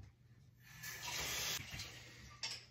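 Water running from a tap into a sink, a faint gushing stream that swells after a moment, holds steady, then eases with a brief splash near the end.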